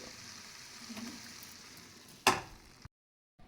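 Cashews and green chilies fry in a pan for palak paneer, a faint steady sizzle broken by one sharp utensil clatter before the sound drops out abruptly.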